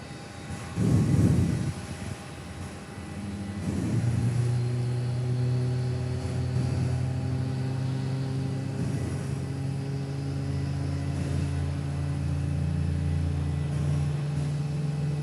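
An airliner spools up for takeoff on runway 06 at Perth Airport, a steady engine drone with sustained whining tones building and holding after a brief rumble near the start, heard from a distance without talk.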